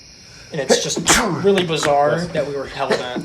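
A single sharp sneeze bursts out near the start, followed closely by someone talking in a casual conversation.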